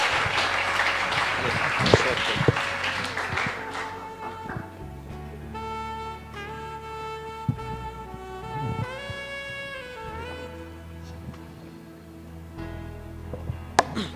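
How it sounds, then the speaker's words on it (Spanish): A congregation at a Spanish-language church service claps and cheers loudly at first, then the applause fades into music with sustained tones and a voice speaking over it. "Dele un aplauso al Espíritu Santo"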